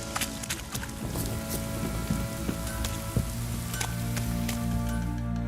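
Heavy rain pours steadily in The Witcher 3, a dense hiss of drops drumming on surfaces with a constant low rumble beneath and scattered sharper splashes, continuous and fairly close with no talk.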